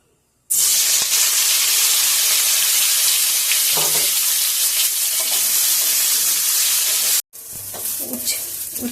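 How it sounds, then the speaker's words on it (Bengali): Bitter gourd frying in mustard oil in a wok gives a loud, dense sizzle that bursts in suddenly and holds steady with stirring scrapes, cuts off abruptly, then resumes more quietly. "এবার উচ্ছে কটা ভেজে নেবো"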